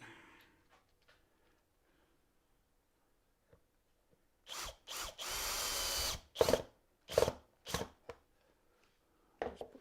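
After a quiet stretch, a power drill whirs into wood in several short bursts and one longer sustained run, loud and close, with brief pauses between.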